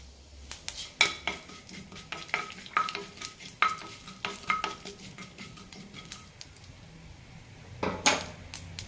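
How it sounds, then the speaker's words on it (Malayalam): Nigella seeds and garlic hit hot coconut oil in a pan, giving a soft steady sizzle broken by sharp spoon-on-pan scrapes and clinks as the mix is stirred, with no voices. "എണ്ണ ചൂടായിട്ടുണ്ട് ഇതിലേക്ക് അര ടീസ്പൂൺ കരിഞ്ചീരകം ഇടാം കൂടെ തന്നെ ഒരു ടീസ്പൂൺ വെളുത്തുള്ളി"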